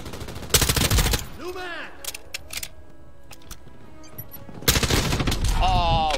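Loud gunfire bursts in Call of Duty Modern Warfare II, a rapid automatic volley near the start and another near the end, with quieter game sounds and a brief spoken line between.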